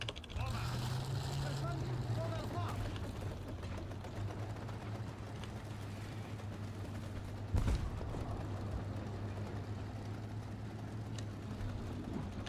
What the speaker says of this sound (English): I feel like that's another enemy engine I hear on my right